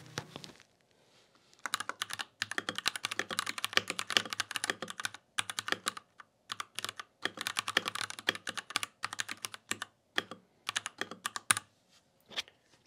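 Brisk typing on an RK61 Plus mechanical keyboard, dense bursts of sharp clacky keystrokes with short pauses between runs, close and fairly loud.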